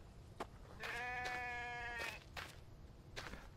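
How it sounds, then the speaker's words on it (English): A sheep in the survival game The Infected gives a long, wavering bleat close by, framed by a few softer clicks and knocks, with no talk over it. "Is that a sheep? Oh, it's a sheep!"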